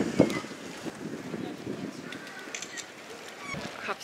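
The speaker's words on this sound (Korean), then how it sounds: "바람 너무 심하게 불어." Strong October wind outdoors in Copenhagen buffets the microphone in gusty rumbling bursts, with people talking faintly underneath.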